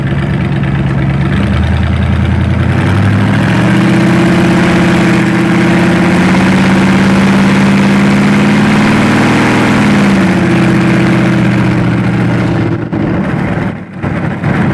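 A 1977 Cadillac rat rod's engine runs in first gear, a loud, steady low drone with a slight rise in pitch partway through, then easing back near the end.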